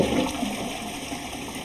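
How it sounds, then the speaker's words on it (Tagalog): A toilet flushes in the video game Resident Evil Requiem, a blood-filled bowl draining in a steady rushing gurgle that fills the short moment without speech. "Flush the toilet. It's filled with blood."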